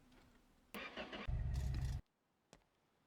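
A truck engine cranks and catches loudly up close, runs roughly for about a second, then cuts off abruptly, followed by a single faint click.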